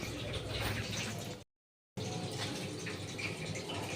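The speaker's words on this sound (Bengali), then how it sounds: "ঝোলটা জল ঢেলে দিলাম," Water pours steadily into a fish curry in a home kitchen with a continuous splashing rush, broken once by a short silent gap before the pouring resumes.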